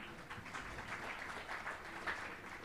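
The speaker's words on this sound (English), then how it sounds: "Give a round of applause to all of them." Audience applause at a live public talk: steady, faint clapping from a crowd that holds evenly for a few seconds.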